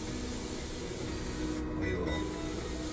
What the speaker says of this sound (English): pulling back on the trigger a little more to get a little bit more spray.